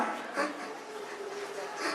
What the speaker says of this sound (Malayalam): പട്ടികള് നമ്മുടെ നേർക്ക് ഓടി വരുന്നുണ്ട്